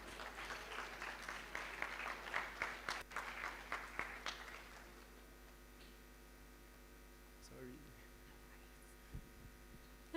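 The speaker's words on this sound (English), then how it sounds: "Please, a round of applause for Mogao." An audience claps on the main stage of the AMLD Africa 2026 conference at Wits University, Johannesburg. A dense round of applause lasts about five seconds, then thins to a few scattered claps over a low electrical hum.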